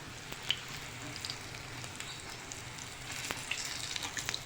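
Fish kabab fries in hot oil, giving a steady soft sizzle throughout with a few faint pops and crackles and no voices.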